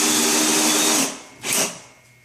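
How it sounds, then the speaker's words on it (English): A power drill drives a screw through plywood into a kitchen sink cabinet floor frame, giving a loud, close whir that runs about a second, drops, then bursts briefly once more before stopping. "this is the last screw I'm going to put in the frame and the plywood attached to the frame."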